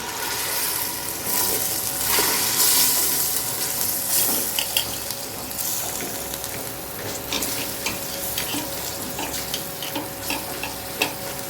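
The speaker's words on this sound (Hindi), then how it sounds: "अब मैं इसमें थोड़ा पानी शामिल करूँगी।" Water added to a spice masala of salt, chilli and turmeric in a hot pan sets off loud sizzling and frying. Stirring clatters through the steady hiss, and bright scrapes and taps recur close by, with no speech.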